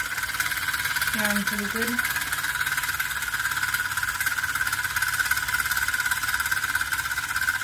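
A homemade model steam engine runs with a steady hiss and rapid mechanical chatter throughout, while a person speaks briefly early on.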